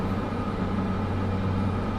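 A steady low droning turboprop aircraft engine hum in a flight simulator game, with a constant tonal whine, unbroken and fairly loud.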